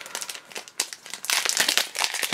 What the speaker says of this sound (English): These packs that are getting harder and harder to open as the set ages.